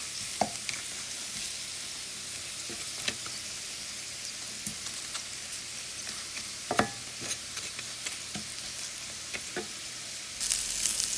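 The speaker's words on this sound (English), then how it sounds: "I'm just frying them until crispy in a cast iron skillet." Corn tortilla pieces frying until crispy in a cast iron skillet, a steady hissing sizzle with scattered pops and crackles and occasional stirring clicks, close and continuous with no talking.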